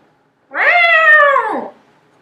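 One clear, close meow from a cat, drawn out for about a second, rising and then falling at the end, alone in quiet surroundings.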